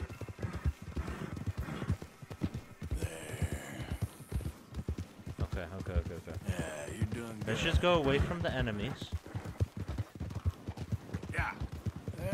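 Horse galloping in Red Dead Redemption 2, rapid rhythmic hoofbeats running steadily under frequent nearby talk, with a brief snort or whinny-like sound along the way.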